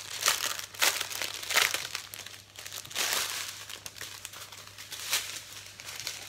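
Plastic packet of diamond painting diamonds being opened, a close, loud crinkling and crumpling in several bursts with brief pauses between, no voices.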